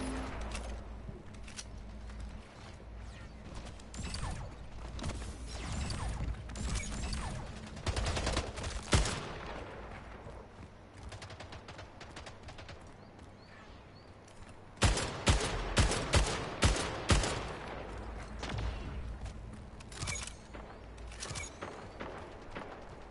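Gunfire in the video game Splitgate, with bursts of rapid automatic shots near 8–9 s and a dense volley from 15 to 18 s over a steady backdrop of game ambience.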